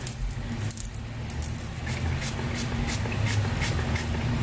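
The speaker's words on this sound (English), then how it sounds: "So I'm going to just spray some of my hair." Quick bursts from a spray bottle hiss in a steady rhythm, close and fairly soft, spraying leave-in onto hair, over a low background hum.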